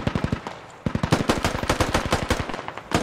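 A heavy machine gun in the military shooter SquadOps fires close and loud in rapid rhythmic bursts, with a brief pause before sustained fire resumes.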